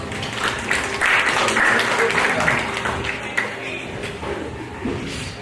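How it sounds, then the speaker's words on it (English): An audience at a hypnotist show applauds with steady, dense clapping that carries on for several seconds, with voices mixed in. "Let's give her a big round of applause."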